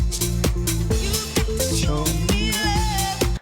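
A house classic plays loud and steady from the top of its chorus, with a punchy four-on-the-floor kick, sustained synth chords and a rising lead line, running alone with no voices over it.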